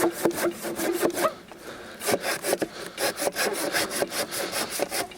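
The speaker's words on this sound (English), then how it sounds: "With any of these saws, it's really important that you let the saw do the work." A slightly rusty hand saw cuts through firewood in quick back-and-forth strokes, each rasping pass close and distinct in a steady rhythm, with a brief pause partway through.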